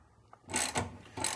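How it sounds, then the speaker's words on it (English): A bolt being tightened on a washing machine agitator during a DIY repair, heard as a soft tick followed by three louder ratcheting bursts of metal clicking, close by and alone with no talk. "we'll just tighten this bolt back up"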